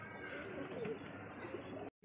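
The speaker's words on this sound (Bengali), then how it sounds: "এখানে একজোড়া রাসগোল্লা কবুতর" A pair of Rasgolla pigeons coos softly nearby, low murmuring calls running under faint ambient noise before the sound cuts out abruptly.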